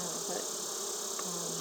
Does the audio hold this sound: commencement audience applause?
no